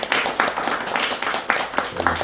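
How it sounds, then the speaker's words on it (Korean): A small church congregation claps for a woman minister during a Korean Sunday service, a steady mid-level patter of many hands that runs for about two seconds. "신현희 전사님 힘내라고 박수 한번 해주세요"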